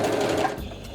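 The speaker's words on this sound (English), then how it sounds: "I'm going to sew just along this line from the one end to the other" A home sewing machine runs steadily, stitching a straight quilt seam, a close, continuous mechanical whir lasting under a second with no talking.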